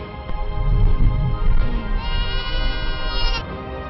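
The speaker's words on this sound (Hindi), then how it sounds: "जाम्पा के साथ हैं 125 के करीब बकरियां और भेड़ें।" A herd of about 125 goats and sheep in a Ladakh valley bleats loudly and close by, with several wavering calls overlapping continuously and no voices.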